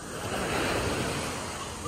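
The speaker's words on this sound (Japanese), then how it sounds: "波の音に癒される" Ocean waves breaking on the shore make a steady, full roaring wash that stays loud and close throughout the short stretch, with no clear voices.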